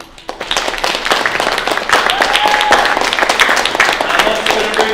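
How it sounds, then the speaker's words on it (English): Enthusiastic audience applause welcoming Uncle Liko Martin, the 2025 Ea Honoree, at the All Hawai‘i Stand Together gathering: a loud, dense wash of clapping that swells quickly and holds steady throughout, with faint crowd voices underneath. "Please give me a round of applause and introduce and welcome our special guest"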